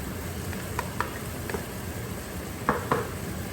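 Celery tossed into a pan with cooked chicken for Cantonese egg noodles, a soft steady sizzle underneath with a few sharp clinks and scrapes of utensil against pan, close and fairly quiet.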